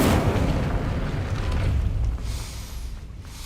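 An Incendio spell explosion in Hogwarts Legacy, a sudden loud fiery whoosh and boom that holds for a couple of seconds before dying down into a softer crackling tail, with no voices over it.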